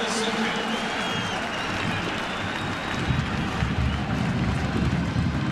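A large football stadium crowd at a Pitt vs. Syracuse college game roars steadily during a kick return, a broad, continuous wash of cheering with no break.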